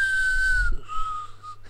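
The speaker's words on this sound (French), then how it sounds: "c'est le petit sifflement de Negan" Negan's short whistle, a single sustained tone that falls slightly in pitch and then trails off in a second softer note, clear and close with no talk.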